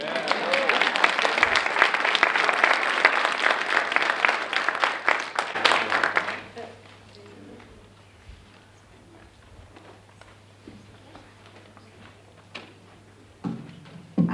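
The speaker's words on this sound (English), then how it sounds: "could we please clap for them again?" An audience claps for children at an African American Read-In event, a dense loud burst of applause for about six seconds that stops abruptly, followed by quieter room noise and faint talk.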